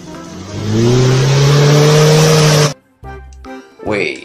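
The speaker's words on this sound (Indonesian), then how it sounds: "ada satu mobil Jeep off-road" An off-road Jeep toy car revs loudly and close for a few seconds with a strained, rising motor whine, then cuts off abruptly, leaving brief clicks and a short burst of noise.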